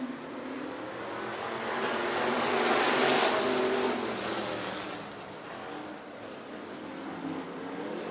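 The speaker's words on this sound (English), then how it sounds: "8 laps, heat race number 2 for your stock cars." Stock cars in an eight-lap heat race at Willamette Speedway in Lebanon, Oregon, their engines forming a continuous broad roar that swells to a peak mid-pass and then eases slightly, with no talk over it.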